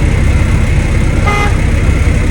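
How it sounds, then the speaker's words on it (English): A short truck city horn toot sounds briefly over a steady low engine rumble in the cab, a single quick blast partway through. "City horns, properly working."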